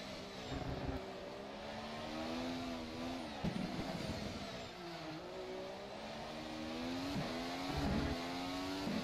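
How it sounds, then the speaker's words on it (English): Formula SimRacing FSR 2018 development race car in rFactor 2 accelerating at full throttle, a steady engine drone with rising harmonic sweeps as it climbs through the gears, near and continuous with no talk. "So for now, we just go full throttle and see what the car gives us."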